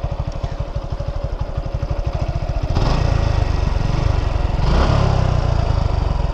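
A 2019 Suzuki Gixxer SF FI motorcycle with 36,000 km on it idles close by with an even, rapid thumping, then its engine swells into two short revs before settling back.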